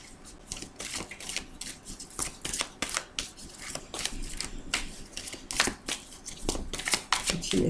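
A deck of cards being shuffled and cut during a tarot-style reading, crisp riffling flutters and sharp snaps repeating in uneven bursts, close and clear with no talking.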